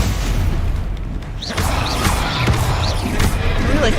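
A Stupefy spell cast in a Harry Potter video game lands with heavy booming blasts and sharp swooshing sweeps, several loud impacts in quick succession over a dense, noisy game background.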